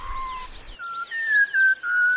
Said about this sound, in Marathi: सह्याद्रीच्या खोल दरीतून शीळ कस्तुराची सुरेल शीळ कानावर पडते आहे.